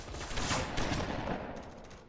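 Gunfire in a Roblox SCP roleplay video game: a rapid, dense volley of overlapping shots over about two seconds, loud at first and then tapering slightly, with no talk.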